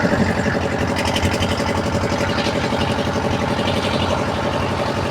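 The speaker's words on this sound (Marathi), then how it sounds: "पाहू शकता तिकडं आपलं ट्रॅक्टर आहे" A tractor engine runs steadily near a poultry shed construction site where it dumps cement mix material, a loud continuous rumbling drone with rhythmic pulsing and no speech.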